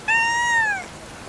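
A single clear cat meow, rising then falling and lasting under a second, close and loud, heard outdoors in the rain.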